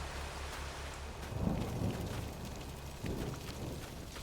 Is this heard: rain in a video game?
yes